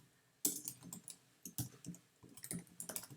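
Rapid keystrokes on a computer keyboard while typing a table caption into HTML code, with bursts of close, crisp clicks separated by short pauses.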